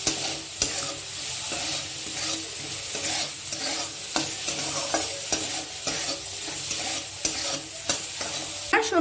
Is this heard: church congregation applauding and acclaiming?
no